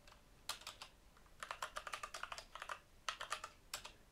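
Quick bursts of keystrokes on a computer keyboard while entering text in a Python project, several short clattering runs separated by pauses, close and fairly quiet with no talk.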